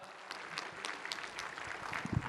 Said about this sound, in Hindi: जोरदार तालियों से स्वागत करता हूं सर आपका